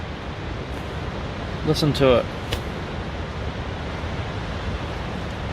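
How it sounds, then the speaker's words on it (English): Strong gusting wind roars steadily and loudly at a rainy forest campsite, a dense broadband rush that never lets up, with a voice speaking briefly partway through. "That wind gust was just crazy"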